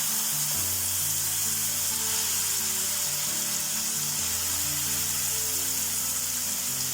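Papaya paste frying in ghee in a pan for papaya burfi, a steady close sizzle that runs without a break, with a few soft scrapes of a spoon.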